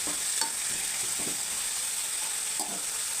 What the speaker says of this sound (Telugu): కలిదిప్పుకోవాలి.